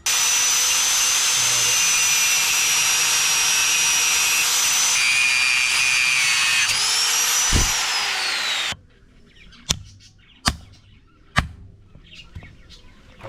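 An angle grinder cuts 90-degree angle-iron pieces for a Honda Grazia scooter top box bracket in a loud, sustained whine that shifts pitch, then cuts off, followed by a few sharp metallic knocks in near silence.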